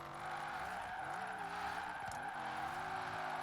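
In Forza Horizon 4, a drift car on drag tyres slides with a steady, droning engine and long, wavering tyre squeals that bend in pitch as it drifts, with no voices.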